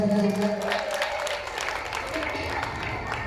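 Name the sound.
audience applause at temple festival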